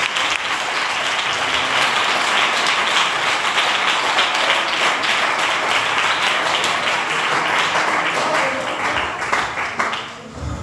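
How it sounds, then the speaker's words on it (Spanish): A church congregation applauds loudly and steadily after a sermon, with dense sustained clapping throughout that thins slightly near the end. "Ese fuerte aplauso y que Dios os bendiga."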